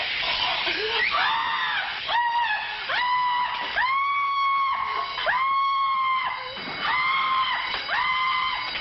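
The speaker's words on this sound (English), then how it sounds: "a Marine heard the cashier's screams" A woman's repeated, rising screams of terror in a radio crime drama, loud and close, coming in several sustained bursts with brief breaths between them.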